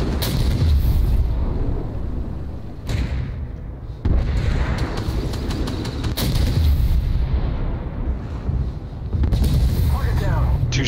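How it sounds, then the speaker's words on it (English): Heavy tank cannon shots in the game Armored Warfare, booming blasts at close range separated by short pauses, with rumbling engine noise and game effects in between. "Two shots in the lower glacis."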